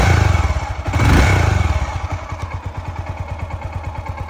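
A cold 1991 Honda GB500 TT single-cylinder motorcycle engine revs briefly, then settles into a steady, loud, close thumping idle with a distinct pulsing rhythm and mechanical clatter.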